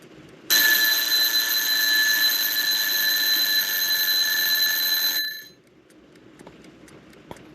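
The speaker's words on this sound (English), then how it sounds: "I'll set the timer." A shrill electronic kitchen timer alarm rings steadily for about five seconds inside a camper van, then stops, leaving quiet room sound.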